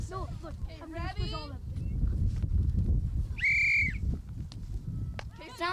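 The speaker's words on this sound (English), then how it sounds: "Sounds like a bird" Outdoors during a children's environmental science game, a short clear bird call rings out twice amid wind noise and nearby chatter, with kids talking and shouting throughout.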